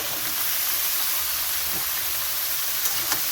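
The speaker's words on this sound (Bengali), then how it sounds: "চাল কুমড়োটা সবটা দিয়ে ভালো করে এরকম ভেজে নিতে হবে" Ash gourd pieces fry in a pan with shrimp, a steady broad hiss of close, moderately loud sizzling with a couple of faint clicks near the end.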